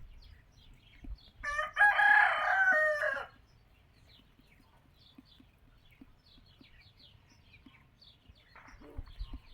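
A rooster crows once, loud and close, in a farmyard where hens are feeding, followed by quiet scattered rustling and soft background sounds.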